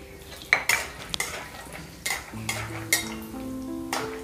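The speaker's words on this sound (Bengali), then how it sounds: "তেল গরম হয়ে গেছে, এরপরে আমি চিনে বাদামগুলো ভেজে তুলে নেব।" Peanuts fry in hot mustard oil in a pan, with a soft sizzle under sharp metallic clinks and scrapes of a utensil stirring against the pan, several distinct knocks spread across a few seconds.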